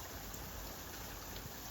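Heavy rain pours onto snow-covered ground during a New England bomb cyclone at 38 degrees, making a steady, dense hiss of drops with no pauses and no voices.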